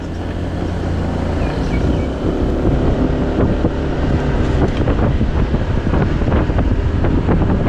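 A loud motorboat engine drones steadily over heavy wind buffeting and water rushing past the hull, no speech.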